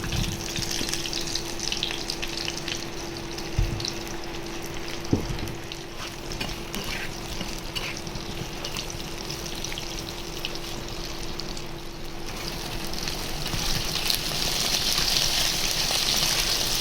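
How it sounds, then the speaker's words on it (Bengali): Eggplant fries in hot oil with a steady, close sizzle and crackle that continues throughout, growing slightly brighter toward the end, with a faint hum beneath and no talking. "বেগুন ভেজে নেব।"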